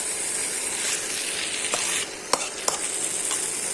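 Eggs sizzle and fry steadily in a pan for egg bhuna, a dense continuous hiss with a couple of sharp spatter pops near the end and no talking.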